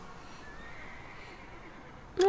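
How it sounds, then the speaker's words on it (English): A horse in the Star Stable Online video game lets out a distressed whinny at the very end, loud and abrupt after a low steady background hum. "Carl, lock the horse away. Make it stop screaming before the whole block hears him."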